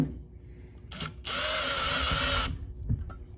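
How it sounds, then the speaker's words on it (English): A power drill whirs briefly, then runs for about a second and a half in a steady whine as it drives a cup hook into a wooden carpenter bee trap, close and loud. "I like to get a drill with a cup hook on the end of it like that."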